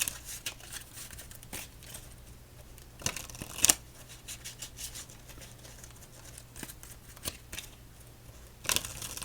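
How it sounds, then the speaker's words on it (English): A deck of playing cards is shuffled and handled up close during a quiet game of solitaire, with soft riffles and sharp snapping bursts scattered over a low steady hum, and no talking. "One more shuffle."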